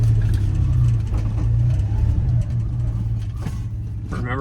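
Two-wheel-drive project car engine revving hard and holding a loud, steady drone as the car struggles, with the engine note dropping slightly partway through.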